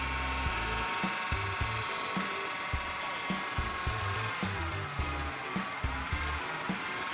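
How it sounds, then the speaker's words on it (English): Dremel rotary tool cutting into a plastic 1/60 model kit, a high whining spin broken by short repeated bursts of grinding contact, close and steady over several seconds with no talk. "here's a good example why I wouldn't recommend using a Dremel"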